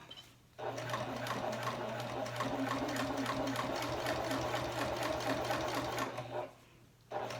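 A Janome HD9 sewing machine stitches fabric in one steady, close run of several seconds, with rapid even needle beats over a low motor hum. It starts and stops abruptly.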